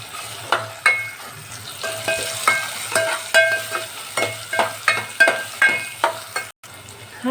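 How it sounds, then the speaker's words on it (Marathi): Tomato and dried byadgi chili being sautéed for a tempered dal, with a spatula scraping and stirring the pan in a steady rhythm over a faint sizzle, close and fairly loud, with no talking. "दोन मिनटं परतून घेऊया"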